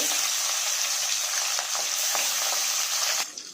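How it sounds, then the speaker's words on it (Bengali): Pabda fish pieces fry in hot mustard oil, giving a dense, close, even sizzle with faint scraping stirs that lasts about three seconds before easing slightly at the end. "পাবদা মাছগুলো খুব লাল করে ভাজার দরকার নেই, হালকা করে ভেজে নিলেই হবে।"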